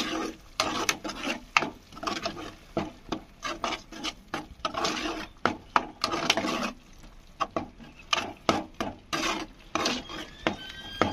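A spoon repeatedly scrapes and stirs tomato paste into frying fish curry in a pan, with close, rhythmic strokes in uneven bursts and short pauses between them.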